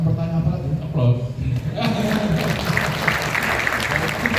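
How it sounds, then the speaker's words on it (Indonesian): An audience at a live talk event with presenter Andy F. Noya bursts into applause. A brief voice is heard first, then dense clapping rises and keeps going steadily to the end. "Aplaus."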